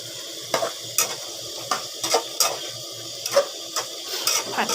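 Chicken giblets stir-fried with ginger in a pan, a soft steady sizzle broken by regular scrapes and taps of the spatula, close up, with no voices.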